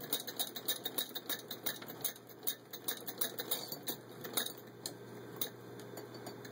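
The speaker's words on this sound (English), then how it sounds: "lifting this lever here allows it now to go reverse stitching" An antique Clemens Muller Dresden hand-crank sewing machine stitches in reverse, its needle mechanism ticking in a quick, regular clatter of close, crisp beats for several seconds, with no voices.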